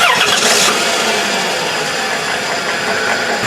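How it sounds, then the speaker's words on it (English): A Dodge Caravan engine cranks and catches, then settles into a steady loud running hum close by. "Okay, so we're going to start the engine now."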